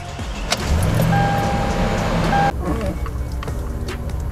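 A Toyota Tundra 5.7 truck engine idling to warm up, a steady low rumble close by that shifts and quiets partway through, with a brief tone.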